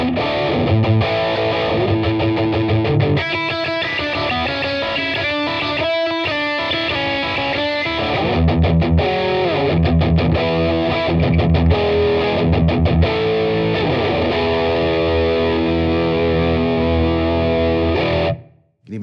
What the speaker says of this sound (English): we add distortion to the British setting. So this is a 70s British amp with distortion.